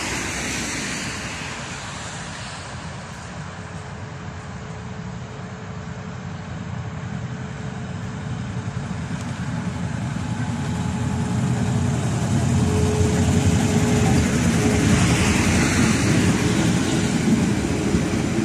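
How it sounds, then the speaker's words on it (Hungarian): A diesel locomotive hauls a train along the H5 suburban rail line, its steady engine drone building gradually louder as it approaches, with no talk over it. "Most dízelgép viszi, nem a villanymozdony."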